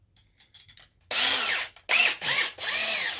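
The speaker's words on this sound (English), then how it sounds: "Go ahead and drill your holes out." A power drill with a 5/16 bit bores holes for a mini keg Bluetooth speaker, sounding in four close, loud whirring bursts after a quiet start.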